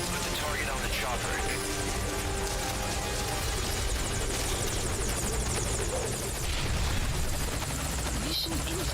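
Helicopter in the Metal Gear Solid video game hovering nearby, a constant loud rotor chop and turbine hum, with speech heard over it and a brief sharp burst near the end.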